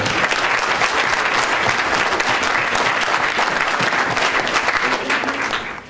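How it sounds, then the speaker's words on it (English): Loud, sustained applause from a large crowd, steady throughout and tapering slightly at the very end. "join me in a round of applause for this school board"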